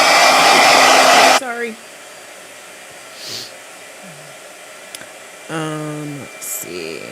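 A hair dryer runs loud and close for over a second, then cuts off, leaving quiet room tone with a brief spoken word and some faint background voices afterward.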